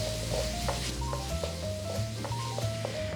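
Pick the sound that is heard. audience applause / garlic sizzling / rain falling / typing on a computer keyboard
garlic sizzling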